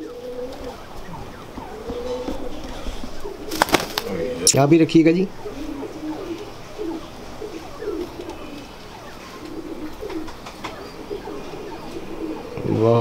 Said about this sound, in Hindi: ये सर सियालकोटी कबूतर है, नील दुमे पुराने कबूतर हैं ये